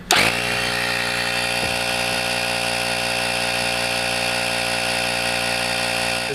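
A loud, steady mechanical drone from a portable air compressor, with a strong low hum and harsh buzzing overtones, starting abruptly and running unbroken throughout with no voices.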